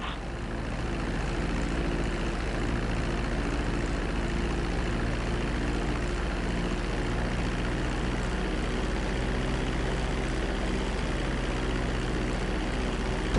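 Steady airplane engine drone during a landing in a video game, a continuous loud low rumble with a constant tonal hum that holds even throughout, with no voices.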